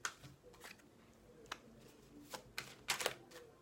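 Tarot cards are drawn and handled on a table, giving soft, scattered slaps and riffling clicks at an uneven pace, quiet and close, with no talking.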